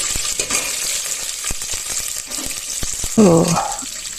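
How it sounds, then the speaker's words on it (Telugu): Whole spices fry in hot oil in a pan, a moderate sizzle broken by sharp metallic spoon taps and a brief clink near the end, close up, no talking. "ఇప్పుడు ఆయిల్ వేడైన తర్వాత ఈ మసాలా దినుసులన్నీ ఇందులో వేసుకోవాలి సో ఇవి కొంచెం వేగనిచ్చి"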